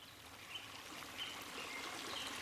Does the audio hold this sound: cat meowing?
no